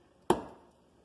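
One sharp, hard crack as a mallet strikes microwave peanut brittle, followed by a brief rattling decay, close and fairly loud.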